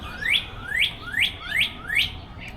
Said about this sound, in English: there's a cardinal right there just talking away